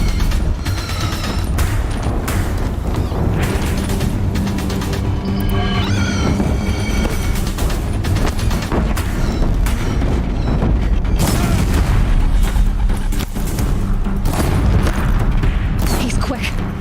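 Deathbringer war machines in Horizon Zero Dawn fire at a bridge, their heavy booming shots and mechanical clatter running continuously and loud across a dense battle mix, with voices speaking over the top.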